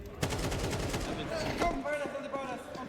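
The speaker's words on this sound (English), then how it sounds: "That was that shot from Zaiwu" Rapid gunfire rattles in Counter-Strike 2 during a tournament final, a fast burst of close shots followed by a few scattered reports, with commentators talking over the action.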